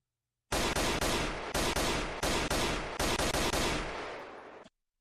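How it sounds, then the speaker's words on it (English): A CZ805 Bren rifle in a VR shooting game fired in semi-automatic, a loud close run of rapid shots merging into a sustained blast, about half a dozen bursts before cutting out, no talking. "CZ805 Brin. This is a Czechoslovakian gun."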